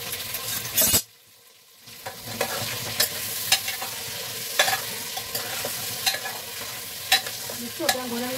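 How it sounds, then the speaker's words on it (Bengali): Tomatoes and onions fry together in a pan and are stirred, producing a loud close sizzle with repeated spatula scrapes and taps at a steady pace, after a brief near-silent pause at the start. "টমেটো পেঁয়াজগুলো দিয়ে দিই, সব একসাথে হোক।"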